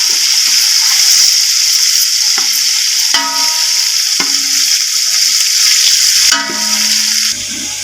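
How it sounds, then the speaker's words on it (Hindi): Spice paste for chicken biryani frying in a pan, a loud continuous sizzle with occasional stirring scrapes and clinks of a utensil against the pan. "2 से 3 मिनट इसकी भुनाई करेंगे हम अपने पेस्ट डालकर अच्छे तरह से"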